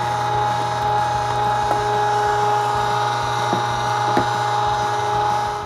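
Meat grinder running a second grind of sausage meat through a 3/16 plate, a steady loud motor hum with grinding and occasional clicks throughout, no talking.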